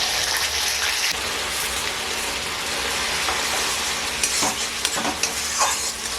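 Onion paste fries in hot oil for a chicken and pointed gourd dorma, a continuous close sizzle with occasional stirring scrapes and no talking.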